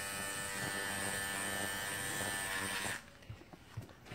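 An electric shaver hums in a steady, close buzz for about three seconds, then switches off, leaving only faint handling sounds.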